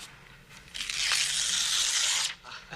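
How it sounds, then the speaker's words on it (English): A page is ripped out of a book in one long, loud, close tear lasting more than a second, followed by a brief softer rustle of paper. "Rip out the entire page."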